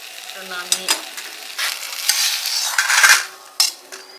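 Crab being stir-fried in hot mustard oil with cumin seeds, bursts of sizzling and sputtering rising and falling over about four seconds, with a few sharp scrapes and clinks of a utensil against the pan.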